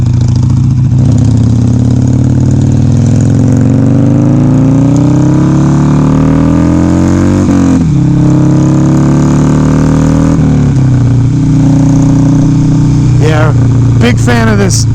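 A Harley-Davidson Sportster motorcycle engine runs loud and close for the whole stretch, a steady rumbling idle with pitch that slowly rises and dips, and a brief sharper burst near the end.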